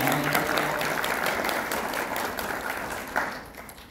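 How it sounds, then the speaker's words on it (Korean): Audience applause welcoming a philosophy professor to the stage at an HR forum, a steady, moderately loud wash of clapping that fades toward the end. "여러분 큰 박수로 김재인 교수님을 맞이해 주시기 바랍니다"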